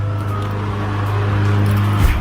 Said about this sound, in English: My neighbor's cutting the grass.